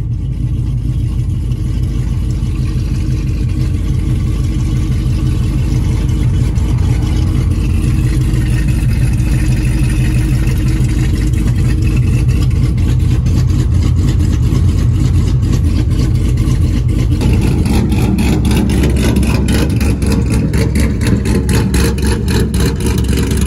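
A 416 LT stroker V8 crew cab truck engine with headers idles close by, loud and rough, a deep lumpy rumble that stays constant throughout, with a sharper crackling pulse toward the end.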